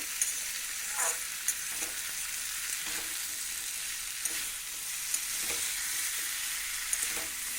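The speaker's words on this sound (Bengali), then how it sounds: "মশলার সাথে ডাঁটা আর আলুটাকে একটু বেশ ভালো করে কষিয়ে নেব" Drumsticks and potatoes stir-fried with spices in a pan, a soft steady sizzle with periodic spatula scrapes and knocks every second or so, close and unaccompanied by talk.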